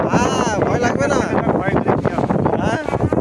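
Boat on a river in the Sundarbans, engine and water rush mixed with heavy wind buffeting the microphone, loud and close, with voices talking.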